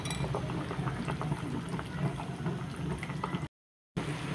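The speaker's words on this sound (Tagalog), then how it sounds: "Hintayin lang natin kumulo." Chicken soup with vegetables bubbling in a pot, a steady low simmering rumble with soft gurgles and light clinks, continuous and fairly quiet, then a brief cut to silence before resuming.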